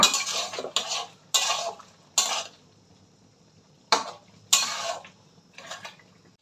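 Metal scrapes and clinks against a pan in short, uneven bursts as food with tomato sauce is stirred, with quiet pauses between strokes and no talking.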